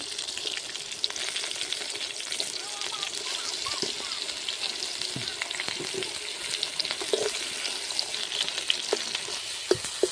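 Eggplant frying in oil, a soft, steady sizzle with scattered pops and light clinks, fairly quiet and constant.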